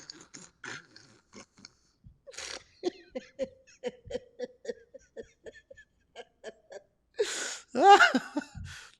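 A voice imitates choked crying, with a run of short, rhythmic hiccuping sniffs and gasps ending in a strained, sobbing burst.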